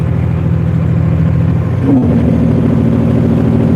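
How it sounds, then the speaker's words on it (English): A semi truck's Jake brake runs as a steady, low, throbbing engine drone heard close up from the cab, shifting slightly in pitch partway through. "So you're gonna hear my Jake brakes running for like the next 2 minutes straight."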